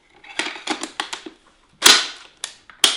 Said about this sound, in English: so you can put the barrel back in